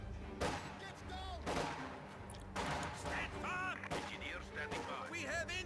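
Battle in Company of Heroes 2: mortar rounds and machine-gun bursts go off under the game's constant din, with loud thumps at intervals and a few whistling shells, while a commentator talks over it throughout.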